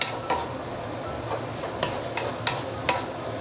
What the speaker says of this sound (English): now you can use medium high heat to stir fry it